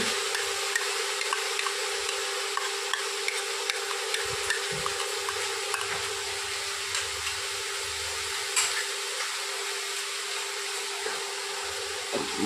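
Cashew paste and yogurt being stirred into a mushroom masala curry in a pan, a steady sizzling hiss with soft scraping stirs running throughout, no talk.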